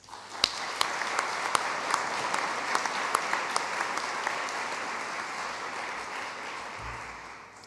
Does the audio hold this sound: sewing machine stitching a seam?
no